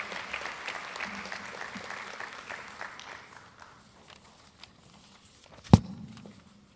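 Applause from the crowd at a high school athletic banquet for award winners: a moderate wash of clapping that thins and fades over several seconds, ending with a single sharp knock.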